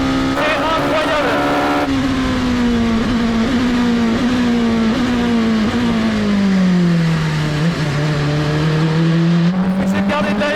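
Rebellion R13 LMP1 prototype race car at full power on a straight, its engine droning loudly and steadily as it climbs through the gears with brief shift breaks and a falling pitch near the end, while someone talks over it.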